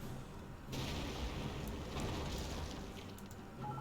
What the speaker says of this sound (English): Maybe it's a good time for our Wehrmacht mortar just to deal with these three landmines.